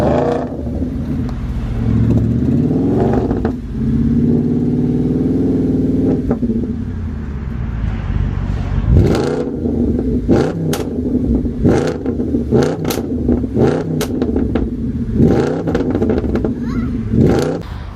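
An Audi S5 with a 4.2 V8 runs loudly close by, a steady idle rumble that gives way to a series of sharp revs and blips. A voice is heard briefly over the engine.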